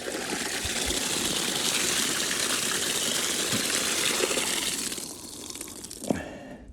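Water gushes in a strong, rushing stream from a partially opened valve, loud and steady for several seconds before it eases off and thins, with a faint knock near the end.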